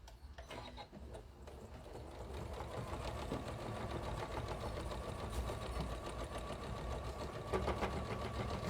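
A sewing machine runs a continuous line of stitching across a Yazzii bag, a steady close whirring hum that starts softly and settles into an even, unbroken drone.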